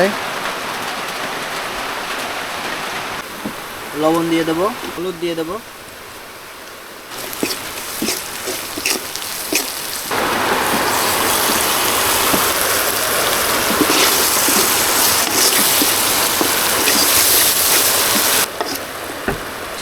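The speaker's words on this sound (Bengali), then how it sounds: "আমরা রান্না করতে আসলেই বৃষ্টি শুরু হয়ে" Rain falling outdoors around an open-air cooking spot, a broad steady hiss that swells and turns heavier partway through, with a person talking over the early part.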